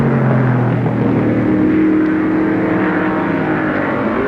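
An improved production touring car at a 1973 Warwick Farm race roars past on its second-last lap, a loud, steady engine drone holding close throughout without any voices.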